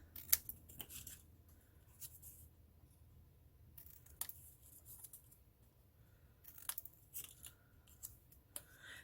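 Scissors snip through designer paper box pieces in scattered short bursts of crisp cuts and paper rustling, close up, in an otherwise quiet room.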